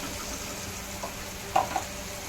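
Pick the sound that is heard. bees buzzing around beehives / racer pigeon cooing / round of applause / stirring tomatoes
stirring tomatoes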